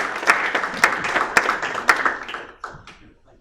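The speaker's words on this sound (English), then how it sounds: "Good round of applause." An audience applauds at a British politics conference, a fairly close round of clapping with sharp individual claps that thins out and fades to scattered last claps by the end.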